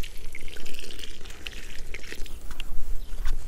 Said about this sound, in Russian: Добавляем аккуратно воды.